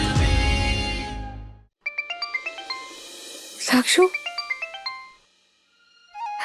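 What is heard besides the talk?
phone ringtone of an incoming call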